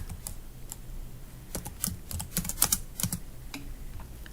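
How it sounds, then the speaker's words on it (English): Keys clatter on a computer keyboard, rapid irregular clicks in short bursts, close and clear over a quiet room hum. "I'm just typing it right here"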